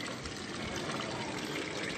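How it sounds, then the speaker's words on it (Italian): Water runs steadily at the Fontana del Toro, a fifteenth-century public drinking fountain in Nardò once used to water horses, giving a close, continuous splashing trickle across the whole span with no one speaking. "Fontana del Toro,"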